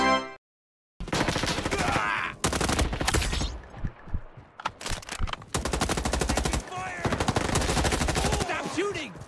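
Automatic gunfire in the Roblox shooter FRONTLINES, long sustained bursts and shorter volleys with brief pauses, loud and close, a voice speaking briefly between shots.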